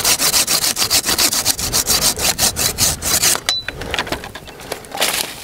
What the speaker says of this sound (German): Auch ein Tipp dabei ist es, den Ast, den man sägt, immer leicht mit der anderen Hand von der Klinge wegzudrücken